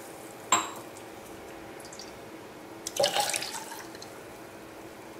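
Water is poured into a rasam mixture of tamarind, tomato, turmeric and rasam powder in a pot, heard as a brief sharp splash and then a longer burst of pouring against a quiet background hiss.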